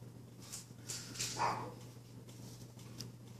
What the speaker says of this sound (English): Ooh, you hear the dogs?